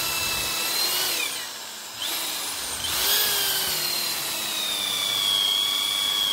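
An electric drill with a 10 mm bit, running on an off-grid 700-watt solar power system, whines loudly and steadily close by, its pitch dipping briefly under load before recovering.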